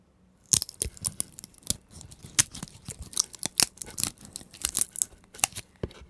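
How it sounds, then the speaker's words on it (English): Dry cracking, snapping and crunching as a seed is pried and torn off a pine cone, a dense irregular series of close clicks over several seconds. "take a pine cone and grab one of these seeds and tear it off."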